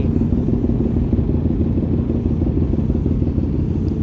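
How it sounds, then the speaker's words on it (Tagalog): A Motowel 450NK motorcycle cold-starting, with a steady, loud, dense engine rumble and mechanical clatter running throughout, close to the microphone and without speech. "ang tagal talaga mag cold start ni 450 NK"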